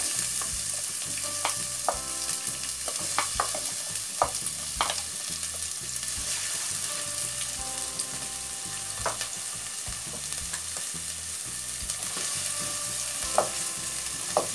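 Chopped onion fries in oil in a pan for a vegetable broth, a loud continuous sizzle broken by scrapes and clicks of stirring that recur throughout.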